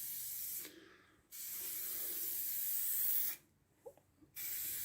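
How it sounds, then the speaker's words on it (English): An aerosol spray can applies etch primer to a car panel in long, close, steady hissing bursts. Short pauses between passes bring brief faint clicks. "Now we're putting an etch primer on."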